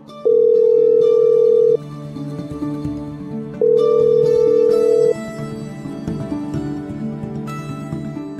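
A phone call rings out unanswered, giving two long, steady ringback tones about two seconds apart, each lasting roughly a second and a half, heard loud and clear over a faint low background with no one speaking.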